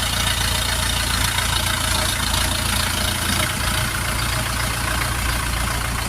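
The steady, rumbling engine of an Orion RF 504 RC Pro tractor idles loudly and evenly, a low mechanical drone with no change in pace.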